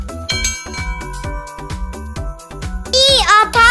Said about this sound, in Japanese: 1990年のアメリカツカップでヨットが出航した時に鳴らされた鐘なんだって